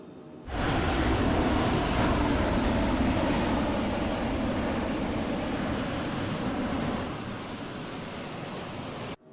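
Steady loud roar of a Phenom 100 business jet's engines during a climb in Microsoft Flight Simulator 2024, a continuous broadband whine and rumble that holds near constant before easing slightly and cutting off at the end.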